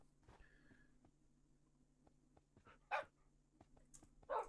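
Dogs barking in the video game Minecraft, two short sharp barks a second or so apart, faint and somewhat distant over a quiet low hum and scattered small clicks.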